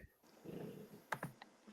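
A dog makes a few quick, faint knocking thumps in a room during a remote call, three close taps followed by one lighter one over a quiet background.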